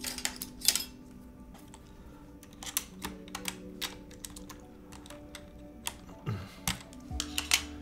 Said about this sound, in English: Can you try GMK spacebar?